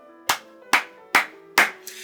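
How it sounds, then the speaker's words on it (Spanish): Four sharp, evenly spaced hand claps ring out close and clear against near silence, with a fainter fifth at the end, as an enthusiastic clap in a spoken story. "Gonzalo juntó repentinamente las manos en un aplauso entusiasta."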